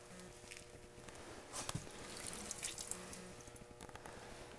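Water is poured over a tire's valve stem during a leak check, a faint trickling and splashing with a few louder splashes and drips, set against a quiet room background.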